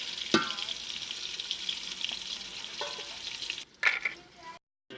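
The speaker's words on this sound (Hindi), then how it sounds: "घी गर्म हो गया, इसमें प्याज डाल देंगे।" Onions frying in hot ghee for chicken biryani, a quiet steady sizzle with a few faint clinks of stirring.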